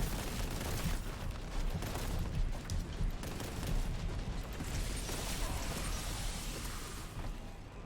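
Rapid, dense gunfire in the Boltgun shooter rattles continuously for several seconds, overlapping bursts and pops forming a steady barrage at moderate loudness.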